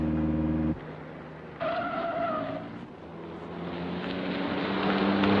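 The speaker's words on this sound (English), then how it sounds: "There's a car following us." Car driving on a mountain road in a black-and-white wartime film, a steady engine drone with shifting tones and a brief squeal partway through, close and moderately loud, with no talk.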